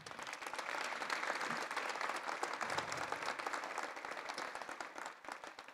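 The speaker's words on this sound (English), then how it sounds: "Can we give them a round of applause?" Sustained audience applause at a paramedics awards celebration in Denver, a dense, steady wash of many hands clapping throughout before tapering slightly at the end.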